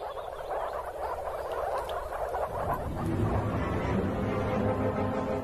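A dense chorus of male frogs croaks in a marsh during breeding season, a loud, continuous overlapping rattle of calls with no pauses.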